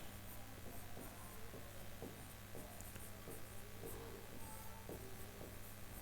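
Someone writes on a board with short, faint scratching strokes spaced at an irregular rhythm, half buried under a steady electrical hum and hiss, with no talking.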